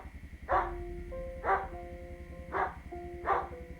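Dogs in the zombie survival game Project Zomboid bark four times at roughly one-second intervals, each bark sharp and loud, heard alone against a low rumbling background.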